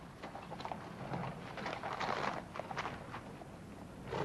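Horses walking at an unhurried pace, their hooves giving a soft, irregular clopping over a steady outdoor background with no speech.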